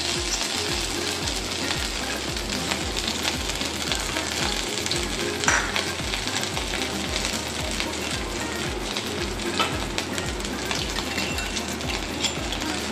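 Ginger and green chili paste fries in hot oil for a vegetarian Bengali begun bahar, giving a continuous loud sizzle over a steady rhythmic low clatter throughout.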